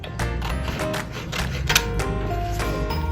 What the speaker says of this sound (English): Get your scissors, cut out a strip